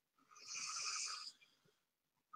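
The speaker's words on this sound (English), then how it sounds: "taking in a slow, deeper breath" A single slow, deep breath drawn in, close and soft with an airy, slightly rasping hiss that swells and then fades out.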